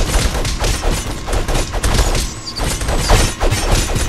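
Bombs exploding and battle noise from the game Slam The Castle, a dense continuous barrage of blasts and crashes that stays loud throughout with no pauses.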